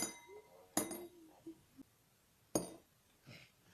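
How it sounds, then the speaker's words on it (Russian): Coins dropped one at a time into a glass of water give a few sharp, bright clinks spaced apart, with faint ringing and small splashy taps between, quiet and close. "Теперь беру монеты, кидаю."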